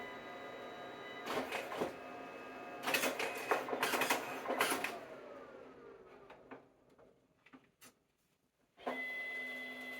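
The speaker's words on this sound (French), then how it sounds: "L'imprimante prend le relais en direct et vient imprimer la photo qui vient d'être prise." A photobooth printer prints a just-taken photo at an event, giving bursts of mechanical whirring and clicking with a short descending motor tone. A sudden louder steady hum follows after a brief near-silence. No one speaks.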